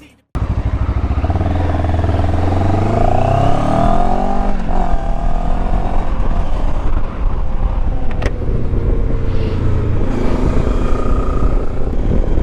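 A 2024 QJMotor SRT 700SX motorcycle engine starts abruptly and runs loud and close while riding, rising in pitch as it accelerates through gears, then settling into a steady drone with brief dips and revs.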